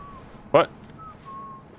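A character in the video game Burden whistles thin, faint tones in short stretches, broken by one brief louder vocal burst in a quiet scene.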